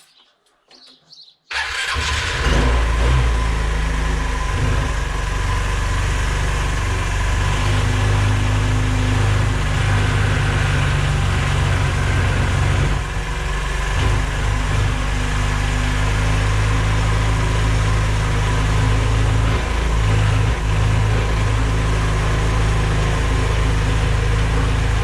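A Beverly 250cc scooter engine cranks and catches after a brief quiet moment, then settles into a steady, loud idle that runs unbroken for over twenty seconds, close to the listener, with faint bird chirps early on.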